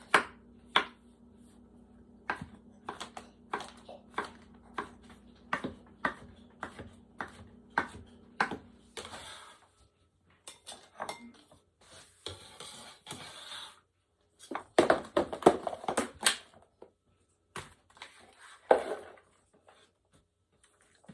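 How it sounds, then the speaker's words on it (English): A knife slices mushrooms on a cutting board with quick, regular crisp taps close by, a steady run of cuts followed by a pause and then irregular clattering handling sounds. "now I'm just going to slice these mushrooms up"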